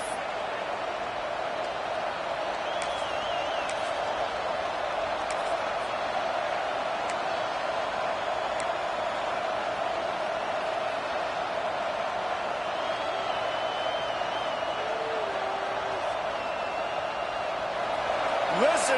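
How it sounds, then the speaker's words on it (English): Stadium crowd at a USC vs Michigan college football game roars in a steady, loud, continuous wall of noise for the whole stretch, with occasional whistles and shouts poking through. "Listen to this crowd just shaking the girders of this place, trying to help their defense"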